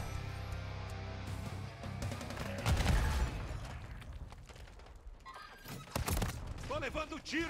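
Combat sounds in Call of Duty: Modern Warfare 3: thuds, booms and shots over a steady rumble, with a strong impact near the middle and another later, and voices talking through it.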